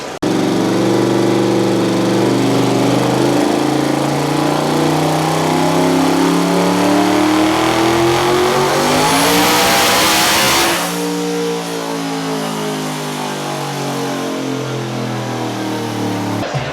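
A 2014 Shelby GT500 engine, making about 1,479 horsepower on a dyno, revs hard and steadily climbs in pitch, roaring loudly for about ten seconds before dropping back to a lower, sustained drone.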